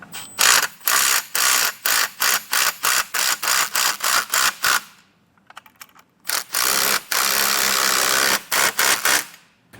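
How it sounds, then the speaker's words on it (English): A ratchet drives a 9/16 socket, tightening bolts on an air bag mount for a 2022 Ford F-250. Rapid, loud, close clicking comes in repeated bursts, with a short quiet gap partway through before the clicking resumes. "Using a 9/16 socket, I'll get these tightened down."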